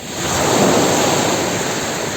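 Ocean waves on a south coast beach, a loud, steady broadband wash of surf mixed with wind rushing across the microphone, with no talk.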